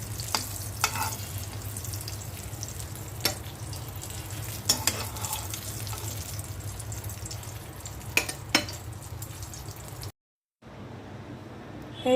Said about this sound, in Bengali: বেগুন ভাজাটা হয়ে গেছে, এখন আমি উঠিয়ে নিচ্ছি।